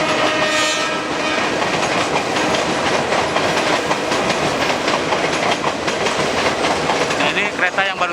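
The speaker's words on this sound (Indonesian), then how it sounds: "Ini kereta yang baru tiba dari Tanah Abang guys, menuju stasiun Rangkas Bitung" A commuter train from Tanah Abang rolls into Rangkasbitung station with rumbling wheels and rhythmic clatter on the rails, a horn sounding over the steady mechanical noise.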